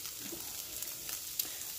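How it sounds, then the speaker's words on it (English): Beyond Meat plant-based patties frying in a pan, a faint steady sizzle with soft crackles and a few sharper pops, no talking. "we're going to let that fry"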